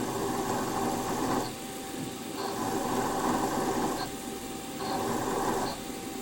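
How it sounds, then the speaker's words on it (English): Lathe with a center drill machining the cylinder of a Stuart Models S50 engine, a faint steady mechanical whir that cycles on and off in a regular rhythm, with a thin high whine riding on top. "So I'm going in with a center drill first"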